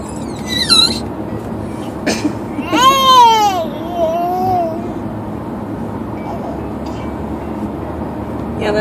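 An infant lets out a few high, rising squeals in quick bursts near the start, then quiets to soft background noise with no clear talk.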